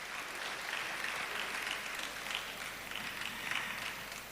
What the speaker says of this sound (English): Let's hear another round of applause for His Excellency